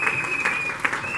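A church congregation claps and cheers in praise, with dense, loud applause throughout a short burst and a voice overlapping the crowd noise.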